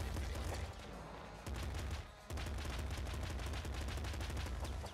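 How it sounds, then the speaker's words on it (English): Machine gun firing in the Nuclear Throne video game, a rapid continuous stream of shots with two brief pauses, loud and dense. "But the machine gun is superior."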